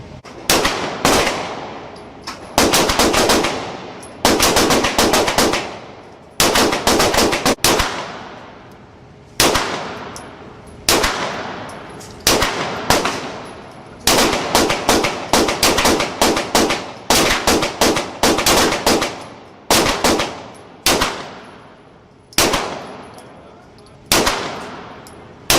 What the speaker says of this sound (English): Now I'm shooting the DZ SP01 and comparing it to the STI